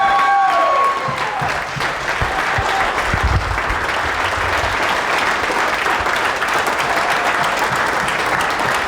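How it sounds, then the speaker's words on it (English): A crowd at a powerboat festival after-party applauding and cheering loudly and continuously, dense clapping with whoops, no pause throughout. "please get loud for Matt and Pete and Skater Powerboats for 15 years"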